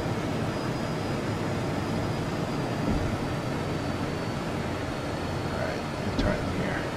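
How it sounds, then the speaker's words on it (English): A jet in FSX closing in along the runway, a steady broadband engine roar filling the whole stretch at constant loudness, with a faint high whine on top. "I think there's a jet coming towards me."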